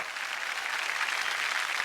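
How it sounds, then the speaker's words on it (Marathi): A studio audience at a women's game show gives steady, even applause for the contestants heading to the final round, a brief, continuous wash of clapping with no voices over it. "एकदा जोरदार टाळ्या त्यांच्यासाठी झालं पाहिजेत."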